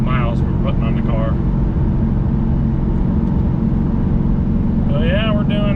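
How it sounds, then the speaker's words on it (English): A Roushcharged Ford Mustang cruises at 70 mph in sixth gear, heard from inside as a loud, steady low engine drone with road roar. Someone talks over it at the start and again near the end. "So yeah, we're doing 70 mile an hour."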